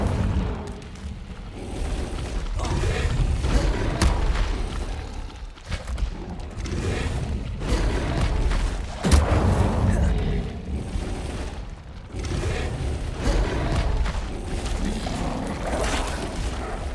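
Incendio fire spells erupt in Hogwarts Legacy as a string of booming, bursting blasts over dense game audio, with a player's voice speaking between them.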